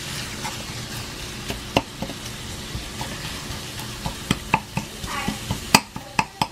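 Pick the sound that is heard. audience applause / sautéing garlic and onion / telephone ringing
sautéing garlic and onion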